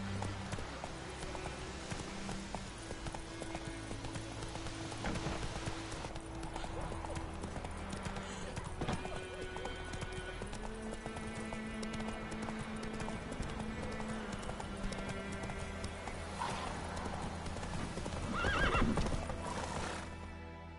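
A horse gallops in The Witcher video game, with rapid, steady hoofbeats throughout under game music and ambience. A whinny rises near the end.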